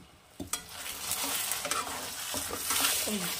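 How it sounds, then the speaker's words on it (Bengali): Paneer butter masala sautés over a low flame with a steady, close sizzle, while a spatula stirs and knocks a few times against the pan. "একটু কিছুক্ষণ লো ফ্লেমে এটা একটু আমি সাঁতলাবো"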